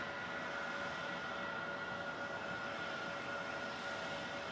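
A Jetstar aircraft landing at Melbourne Airport comes through as a faint, distant, steady engine rumble with a thin tonal whine, alone and unbroken.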